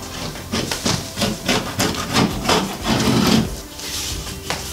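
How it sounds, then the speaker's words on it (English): A 6-in-1 tool scrapes along a drywall corner bead in repeated rough, gritty strokes, loud and close, with no talking. "I'm going to use this 6-in-1. It's a little sturdier. It's good for scraping like that."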